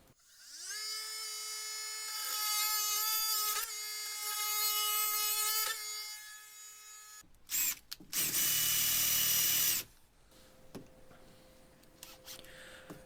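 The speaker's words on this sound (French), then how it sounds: "je perce un trou suivi d'une découpe afin de laisser passer les fils électriques" Electric drill whining steadily as it bores through a wooden cabinet panel for electrical wiring, its pitch rising and falling under load for several seconds, then louder harsh cutting bursts and a faint lingering hum at the end.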